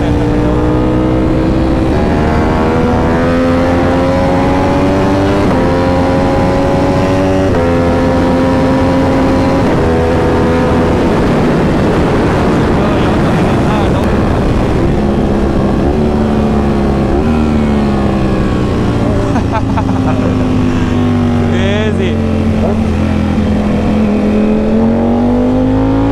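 A Ducati Panigale V4S Superleggera motorcycle engine revs loud and close, its sharp, continuous howl climbing and falling in pitch through repeated throttle blips with no voices.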